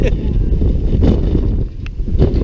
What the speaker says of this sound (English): This is too damn windy right now.